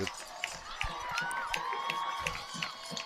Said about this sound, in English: Wow, the crowd really coming alive.